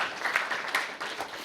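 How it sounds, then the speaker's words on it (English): Audience applauding at a university computer science colloquium, a steady wash of clapping that holds through a short stretch, moderately loud and close, with no talking over it. "So I think a round of applause for his."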